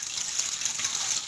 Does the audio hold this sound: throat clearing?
no